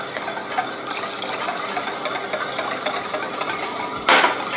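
Sesame oil dressing with fermented vinegar whisked by hand in a bowl, a steady busy scraping and clatter running throughout, with a brief louder burst of clinking near the end; no talk.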